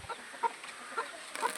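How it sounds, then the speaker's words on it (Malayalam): Newly hatched black chicks peep in short, high, scattered chirps, several quick calls spaced through a moment amid faint background hiss, with no talk over them. "ഇതാണ് നമ്മളെ കോഴിക്കുട്ടികൾ കേട്ടോ"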